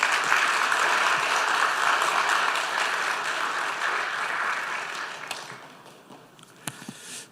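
A Korean church congregation gives loud, sustained applause to welcome a pastor to the pulpit, the dense clapping strong at first and then thinning and fading, with a few scattered claps at the end.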